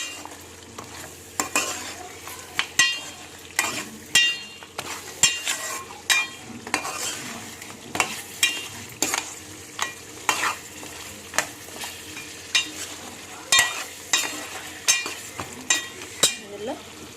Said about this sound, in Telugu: బోన్స్ ఇంట్లో వేసేసుకొని ఇట్లా తిప్పుకోండి.